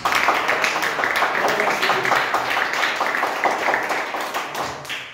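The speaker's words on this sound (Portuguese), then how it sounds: "Aplauda ao Senhor Jesus Cristo." A church congregation at a Sunday worship service claps steadily and loudly together for several seconds, a dense sustained applause that fades slightly at the end.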